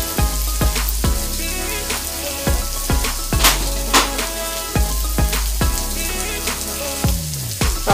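Onion and bacon grease sizzle steadily on a griddle, a loud continuous hiss broken by frequent clinks and scrapes of a metal utensil stirring and moving food.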